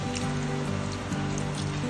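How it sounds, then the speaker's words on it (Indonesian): Hands rinsed under running tap water, a faint, steady trickle with small splashes, quiet and low in the mix. "Langkah pertama, basahi tangan dengan air mengalir."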